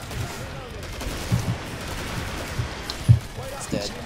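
Gunfire from the video game Killing Floor crackles in short bursts with a couple of heavier bangs, set against a low rumbling game backdrop.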